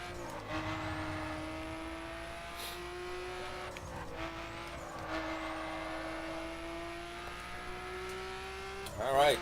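Engine of a car driven fast in the racing game The Crew, a steady high whine that rises in pitch, dips at gear shifts, then climbs again, loud and continuous with no talk over it.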